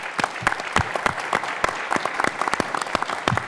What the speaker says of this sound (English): So if we can have a round of applause for him as a speaker.